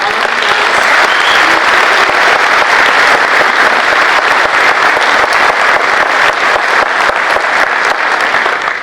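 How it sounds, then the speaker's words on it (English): A large audience at a university sports hall of fame induction ceremony gives a loud, sustained round of applause, dense steady clapping filling the whole stretch without letup. "I'd love for us to just give him a big round of applause and appreciation for all of he does."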